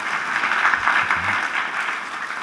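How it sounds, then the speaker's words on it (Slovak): Steady applause from an audience fills a formal awards evening honouring city residents, a dense continuous clapping that holds at even loudness for the whole stretch. "Potlesk samozrejme vhodný kedykoľvek."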